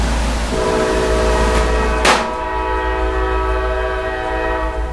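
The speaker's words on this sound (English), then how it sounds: "I'm going to turn the train off now so you can hear me" A train rumbles steadily with a low, continuous drone and tonal hum, joined midway by a brief sharp burst, heard close and loud without any talking.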